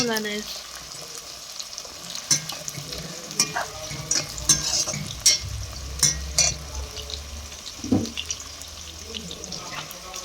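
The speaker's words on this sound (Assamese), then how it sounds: "পিঁয়াজ নহৰু গোটেইখিনি ভাজি ল'লোঁ" Onion and garlic frying in a pan while cooking Assamese duck meat, a continuous close sizzle broken by frequent clanks and scrapes of stirring, with no voices.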